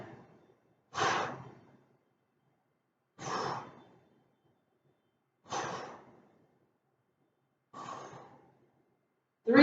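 Four slow, evenly spaced breaths during a chair yoga exercise, each a soft airy exhale near the microphone, separated by quiet pauses.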